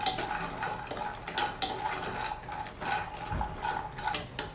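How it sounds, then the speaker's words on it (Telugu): Almonds and cashews stirred as they fry in a pan for dry fruit laddu, with irregular scraping clinks of a spoon against the metal and a soft background hiss, moderately close. "ఇలా మధ్య మధ్యలో మిక్స్ చేసుకుంటూ ఫ్రై చేసుకోవాలండి"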